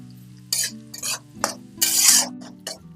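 Chopped onions frying over a low flame for kande pohe, stirred in a pan with a spatula; five or six loud scraping strokes break through a soft steady sizzle, close up, no talk.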